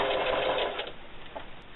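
A sewing machine stitches briefly back and forth to lock a seam on a fabric can koozie, a steady close whirring run that eases off after about a second, with no voices.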